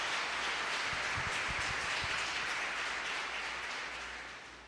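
Church congregation applauding during an evening service, a dense, steady wash of many hands clapping at moderate distance, fading slightly toward the end.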